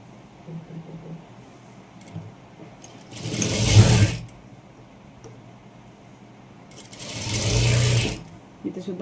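A sewing machine stitches a princess-style blouse in two loud, close bursts, each lasting about a second, with quiet stretches between them and someone talking softly around the stitching.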